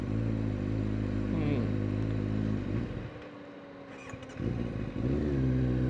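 A Kawasaki ZX9R sport bike's engine drones steadily while riding on a hot day, dipping briefly in level midway before rising again, with wind and road noise throughout.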